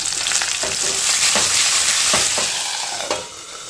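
Tomatoes, garlic and green chillies frying in oil for a spicy tomato chutney, a loud, dense sizzle close up with repeated spoon scrapes and knocks against the pan, no talk.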